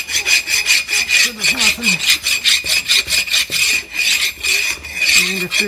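Hand file scraping across a brake rotor surface on a 1998 Dodge 2500 4x4 front axle: fast, loud, rhythmic back-and-forth rasping strokes, close up, with someone speaking briefly over it.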